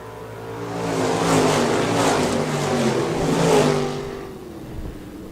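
Stock cars roar back to green on a restart at Park Jefferson Speedway, engines swelling loudly in two rising waves of revving as the pack passes close by, then fading away.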